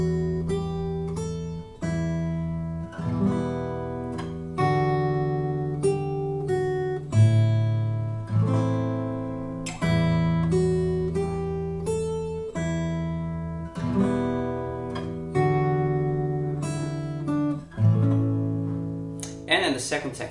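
A fingerpicked acoustic guitar plays a gentle melody using alternate fingering, with clear individually plucked notes and let-ring decays in an unhurried rhythm, close and solo with no voice over it.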